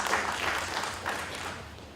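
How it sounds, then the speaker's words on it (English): An audience claps to welcome children as they take their places at a church gathering, a steady, dense patter of applause that holds for the whole moment without talk. "We clap for them as they take their place."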